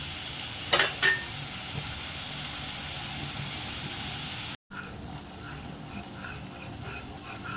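Grated coconut and garlic frying in hot oil for a Konkan-style fish curry, a steady soft sizzle with a few brief stirring clinks early on, briefly cut to silence midway, then continuing quietly.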